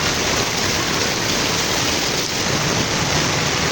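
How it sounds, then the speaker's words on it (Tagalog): A constant, dense hiss of heavy rain pours down without a break, loud and even throughout. "Tapos bumubuhos pa rin ng malakas na ulan."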